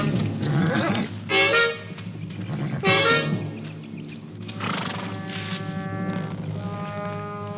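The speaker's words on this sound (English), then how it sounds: "Whose horse is that?" A horse whinnies loudly twice in sharp, shrill bursts, followed by further neighing and snorting amid faint hoof movement, close by and with no talking.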